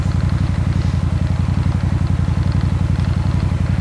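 A 2001 Suzuki Intruder VS1400 cruiser motorcycle with Vance & Hines aftermarket exhaust pipes, K&N air filters and jetted carburetors, idling close by with a loud, deep, steady lumpy throb and no talk.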